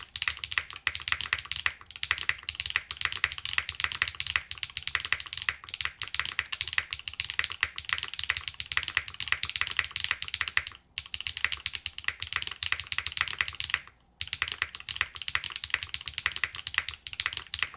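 Steady, brisk typing on a Glitter65 L01 keyboard fitted with Yogurt switches, close and clear, with dense clacky keystrokes and a few brief pauses, no talking.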